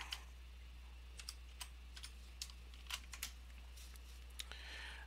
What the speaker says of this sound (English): you need to put in your password